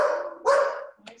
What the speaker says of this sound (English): where's she barking from?